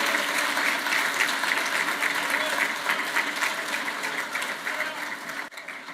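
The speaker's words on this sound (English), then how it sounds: "Let's have a round of applause for our former justices." Audience at a formal dinner applauding former Texas justices, a full, even round of clapping lasting several seconds before tapering off.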